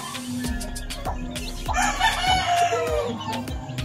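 Chickens cluck nearby while a rooster crows in the middle, over a busy farmyard background with repeated thumping knocks.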